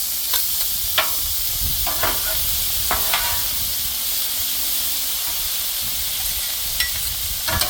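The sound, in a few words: shrimp lo mein tossed and sizzling on a Blackstone griddle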